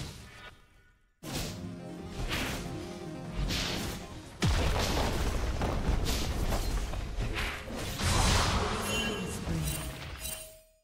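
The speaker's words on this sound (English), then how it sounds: "Your turret has been destroyed." A turret being destroyed in a video game: after a brief silence comes a sudden loud crash of smashing and whooshing debris, then a second heavier impact partway through, followed by a sustained crumbling roar.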